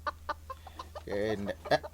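Chickens clucking in short, uneven bursts at close range, with one longer drawn-out squawk near the middle and a sharper cluck at the end.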